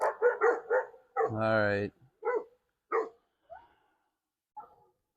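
Golden retriever and another dog barking indoors, a few sharp close barks and then one long drawn-out howling bark, followed by scattered fainter yips and whimpers, with someone speaking briefly between them.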